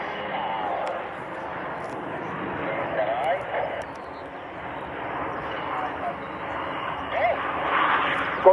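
Al Fursan display team jets flying at the RIAT airshow give a steady, moderately loud engine roar that swells and fades slightly as they pass, with a commentator talking over it throughout.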